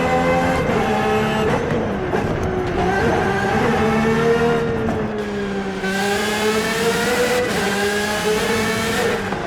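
Aston Martin Valkyrie AMR Pro racing in Forza Horizon 5, its engine roaring loudly and continuously, with high tonal harmonics that climb and fall through gear changes and revs.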